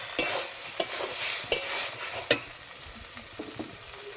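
Bottle gourd and shrimp frying in a pan, with a spatula knocking and scraping about every half second over a softer underlying sizzle.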